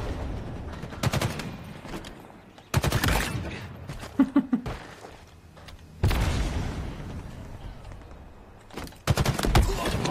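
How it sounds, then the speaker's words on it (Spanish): Gunfire in the shooter game Halo Infinite: loud bursts of rapid automatic shots in several clusters, with a few short sharp single cracks between them, over low background game noise. "Yo escucho los balazos"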